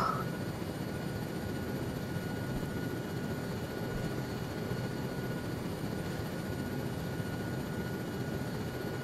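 Continuous low rotor and engine drone of a helicopter, steady and fairly loud throughout, with no clear breaks.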